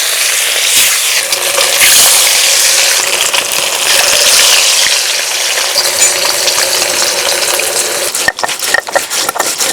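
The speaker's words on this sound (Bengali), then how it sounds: "তেল থেকে ধোঁয়াও ছেড়ে দিয়েছে, এবার দিয়ে দেব মাছ।" Rohu fish pieces fry in smoking-hot mustard oil, a loud, dense, continuous sizzle with a brief burst of clattering near the end.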